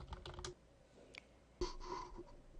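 An email message being typed on a computer keyboard, a few soft, quiet keystrokes in two short clusters, close by, with no speech.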